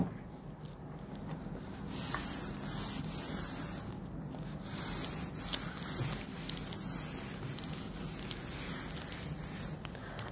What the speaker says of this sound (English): I need to rub this.